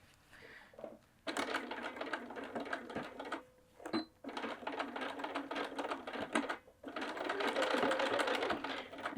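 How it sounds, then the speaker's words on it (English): A sewing machine stitches along a marked line on a bag pocket in rapid mechanical bursts, pausing briefly between runs, with a longer steady run at the end. "we're going to head over to the machine and just sew right along that line"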